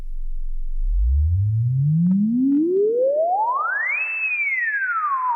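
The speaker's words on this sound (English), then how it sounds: "as we bring the resonance up, we'll actually start to produce a self-oscillation, feedback-based sine wave" A pure electronic sine tone from a self-oscillating Moog Mother-32 filter sweeps smoothly upward from a deep hum to a high whistle, then glides back down, loud and alone.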